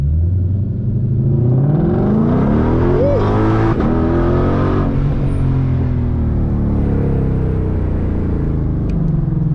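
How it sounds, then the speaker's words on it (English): A loud Dodge car engine with an aftermarket exhaust revs up and down in sport mode with a deep, throaty exhaust rumble, close by and sustained across the whole stretch. "This definitely sounds like you got an aftermarket exhaust on the car"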